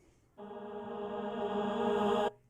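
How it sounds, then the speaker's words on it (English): A reversed reverb bounce on a sung vocal swells steadily louder as a sustained harmonic tone, then cuts off abruptly, standing alone with no talking. "this little effect that you heard here is just like a reverb bounce, and then I reversed it"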